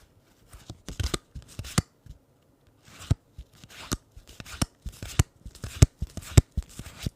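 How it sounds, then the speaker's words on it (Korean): Tarot cards being shuffled and squared up by hand, a run of soft riffling bursts and light taps coming in irregular clusters, close and quiet with no voice. "그거 카드 정리를 안 했거든요. 그거 하고 끄면 좋을 것 같네요."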